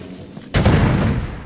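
Grenade explosion in the Resident Evil Raccoon City video game, a sudden loud boom that holds as a dense rumbling blast for nearly a second before another sharp hit cuts in.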